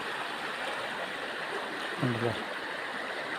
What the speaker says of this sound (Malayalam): അതിനെ ചാരിയിട്ടാണ് ഈ പുഴ അങ്ങനെ ഒഴുകി പോകുന്നത്